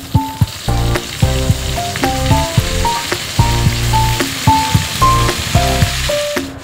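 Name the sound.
pork frying with potatoes, onions and chillies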